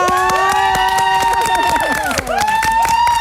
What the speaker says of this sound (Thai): ปรบมือหน่อยค่ะ